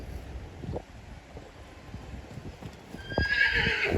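A mare outdoors whinnies loudly near the end while hooves clip-clop in irregular steps throughout, with light wind noise in the background.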